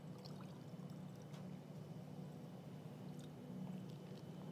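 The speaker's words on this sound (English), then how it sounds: "this glass is going to be Fanta full soon." Fanta pours into a glass with a soft continuous gurgling trickle that stays faint and even throughout, with low room rumble underneath.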